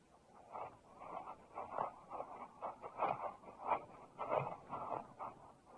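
Sled dogs whimper and whine on sea ice in a steady, rhythmic series of soft, breathy cries that rise and fall over several seconds, fairly faint and close.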